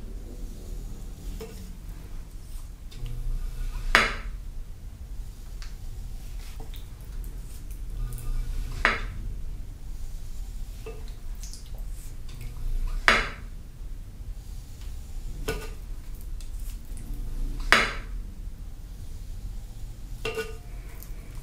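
A faceting tool shaving chunks from a leather-hard clay bowl, soft scraping strokes close up with a sharp, louder cut roughly every four to five seconds, alone with no talk.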